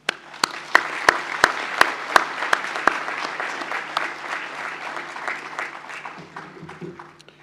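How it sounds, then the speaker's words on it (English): A graduation presentation ceremony audience applauds its lecturers with dense, sustained clapping. A few sharp, louder claps stand out early on before the applause thins toward the end. "to give them a cheer and a round of applause"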